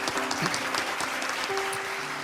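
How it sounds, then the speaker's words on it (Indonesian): Applause from an audience at an event, a dense steady wash of many hands clapping throughout, loud and continuous, with a faint tone rising under it near the end. "Untuk itu kita berikan tepuk tangan untuk mereka."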